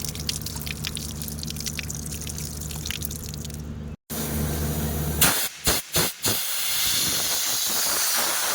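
Compressed air blasts across a car seatbelt during cleaning after a water-and-brush wash, a steady loud hiss over background hum, then a brief cutoff and several short sharp bursts in quick succession.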